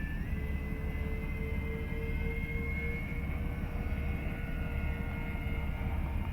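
A large XFly Twin Otter RC model airplane droning steadily overhead, its twin electric motors giving a continuous whining tone with a slowly shifting pitch, fairly close and uninterrupted, with no talking.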